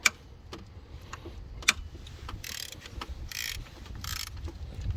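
A 3/8-drive ratchet with a long 13 mm socket works on alternator bolts of a 2006 Ford Explorer 4.0 SOHC, with a few sharp metallic knocks and then several short, close bursts of ratcheting clicks.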